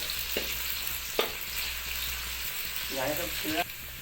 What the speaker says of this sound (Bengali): পেঁয়াজটাকে হালকা ব্রাউন করে ভেজে নিতে হবে।